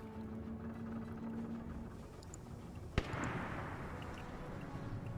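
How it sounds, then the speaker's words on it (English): A single sharp anti-tank rifle shot in a World War II German paratrooper video game cracks out midway, standing above a low rumbling ambience and distant gunfire. "So you're hearing that AT rifle fire again."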